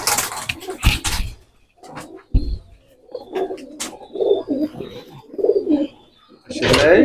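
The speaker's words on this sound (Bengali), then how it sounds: "এখানে কি সব ফ্লাইং এর কবুতর?" Pigeons coo repeatedly in a farm loft of Pakistani breed pigeons kept in iron-framed enclosures, with soft, rhythmic throaty calls close by, interspersed with brief knocks and rustles.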